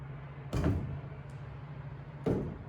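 Someone opens and then shuts the lightweight fiberglass door of a drag car, producing two distinct close thumps about two seconds apart over a quiet background hum. No one talks.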